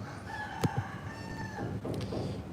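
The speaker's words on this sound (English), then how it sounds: "Y'all hear the rooster out back?" A rooster crows out back, one long drawn call at moderate distance, with a couple of sharp knocks and a faint rustle around it in an otherwise quiet room.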